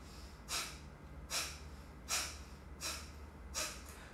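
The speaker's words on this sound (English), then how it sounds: "this is what Kapalabhati breathing is." Kapalabhati yoga breathing: five loud, forceful nasal exhales come in a steady rhythm about every 0.8 seconds, each a sharp breathy burst with quiet inhales between and no speech.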